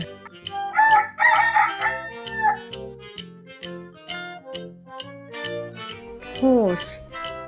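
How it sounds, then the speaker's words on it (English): A rooster crows once, rising then falling near the end, following a stretch of bright, rhythmic children's music with clapping beats that plays throughout. "Rooster."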